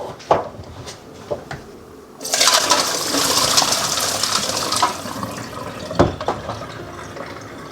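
Water runs from a tap onto beans being soaked, a loud steady rushing gush that starts abruptly after a few handling clunks and continues for several seconds before tapering off amid more knocks.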